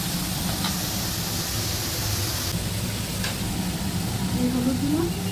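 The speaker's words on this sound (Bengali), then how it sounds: "এই দেখুন আলু তেলে দিলাম" Potato and eggplant pieces frying in hot oil in a pan, a continuous close sizzle and hiss with brief stirring scrapes, faint voice in the background.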